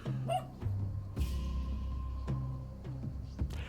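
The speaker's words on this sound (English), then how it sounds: "That sounds like my doggy is to the right. It was a very distinct dog noise." A dog barks in the video game Spelunky 2, several short yips and barks over a low, steady game soundscape, with no talking.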